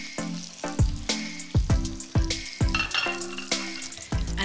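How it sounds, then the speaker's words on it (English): Cornstarch-dusted garnish deep frying in hot oil, a loud, busy sizzle with repeated sharp splashes and clatters as pieces drop in and are moved about. "Then, a quick dip in hot oil."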